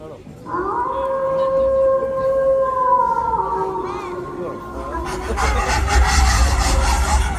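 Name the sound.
stray dogs howling, sound effect in a stage play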